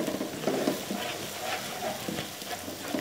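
Garlic and ginger sauté for a tikka masala gravy, a steady close sizzle in hot oil with the scrape of a spoon stirring the pan throughout.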